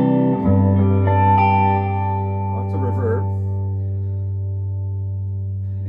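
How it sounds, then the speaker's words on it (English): Reverb noise from a Weber 6A20 Deluxe Reverb clone amp: a steady hum and hiss with sustained harmonic tones ringing through, fairly loud and continuous, with no talk. "The reverb is a little bit noisy."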